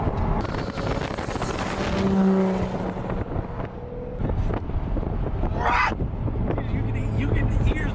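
A Nissan S13 drift car's engine rises and falls on the throttle, loud and fairly close amid wind buffeting, with people talking over it.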